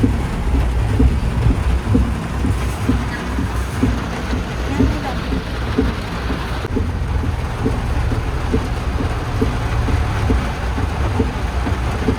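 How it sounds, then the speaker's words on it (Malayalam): Steady, heavy monsoon rain in Kerala roars without pause, a dense wash of downpour with low rumbling thunder underneath. "അടിപൊളി മഴ"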